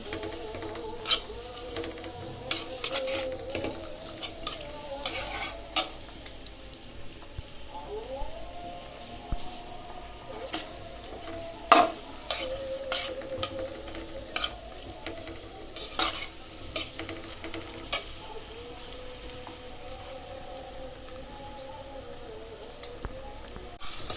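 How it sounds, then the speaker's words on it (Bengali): Onion, garlic and green chili fry in a pan with cinnamon, cardamom and bay leaf, a soft steady sizzle broken by repeated scraping stirs of a spatula against the pan, with a distant call to prayer faintly behind. "আমার পেঁয়াজ রসুন কাঁচামরিচ ভালোভাবে ভাজা হয়ে গেল।"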